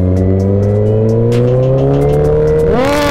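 A freshly serviced motorcycle engine accelerating during a ride, a loud steady whine rising in pitch through the gear, then a sharp shift and renewed rev near the end.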